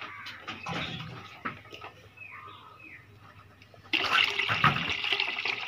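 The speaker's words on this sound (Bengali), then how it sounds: "না, আমি একটু পানি দিব।" Water splashes into a pot of lentils being readied for boiling, a light trickle at first and then a louder, steady gushing pour near the end, with no talking.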